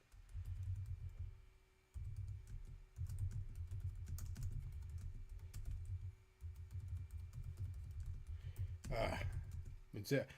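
Someone types a comment on a computer keyboard in rapid bursts of clicking keys, pausing briefly between runs, close up with a faint hum beneath and a voice breaking in near the end.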